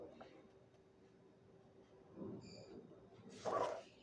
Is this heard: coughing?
no